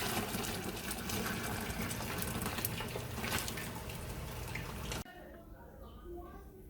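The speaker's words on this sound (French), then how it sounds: "Je vais verser dans le tamis pour séparer l'eau." Cooked spaghetti poured into a sieve to drain, a steady loud gush of water running for about five seconds before cutting off abruptly to a quieter room.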